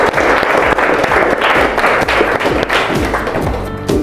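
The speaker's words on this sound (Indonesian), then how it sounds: "Kita kasih tepuk tangan dulu ya." Applause from a lecture or teaching-session audience in Indonesia, brisk close clapping with distinct individual hand claps and thumps running steadily for about four seconds.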